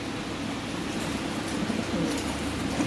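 Lahori pigeons cooing at a pigeon farm, a dense, steady murmur of many overlapping low coos close by, with no talking.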